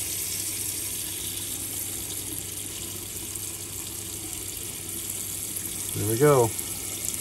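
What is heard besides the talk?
rainwater running from bathroom tap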